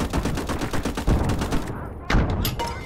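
Rapid bursts of video game gunfire crackle in a dense, sustained volley through a hedgerow battle, loud and close with repeated sharp shots and a heavier blast near the end.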